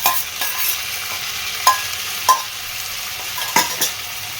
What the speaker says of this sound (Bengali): শিম এগুলো কিন্তু ভাজা হয়েছে মোটামুটি, এই যে সেদ্ধ হয়ে গেছে।